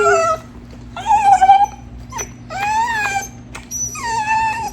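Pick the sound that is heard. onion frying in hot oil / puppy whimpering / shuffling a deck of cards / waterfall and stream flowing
puppy whimpering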